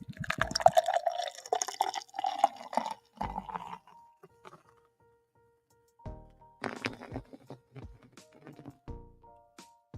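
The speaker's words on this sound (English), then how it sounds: "Give it a pour." Founders All Day Haze beer is poured from a freshly opened can, giving gurgling, splashing liquid sounds in two bursts with a quiet pause between, close and clear.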